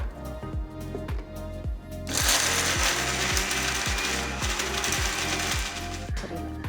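A mixer grinder grinds cooled sautéed soya ingredients into a coarse paste in a jar; a rhythmic knocking comes first, then the motor surges into a loud, steady, dense whir that runs to the end.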